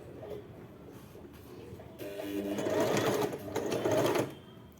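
Usha Janome Wonder Stitch Plus sewing machine stitching a button, a quiet hum that swells into a brief, faster mechanical whirr of needle strokes before stopping, close by with no voices.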